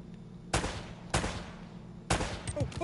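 Gunfire in Uncharted: Drake's Fortune, three sharp loud shots spaced about half a second to a second apart, each with a quick decaying tail, over a low game background hum.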